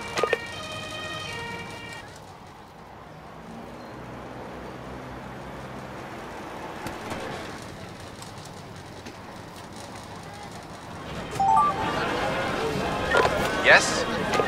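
An ambulance siren wails in the emergency-services video game Emergency 5, rising near the end over continuous game ambience and background voices.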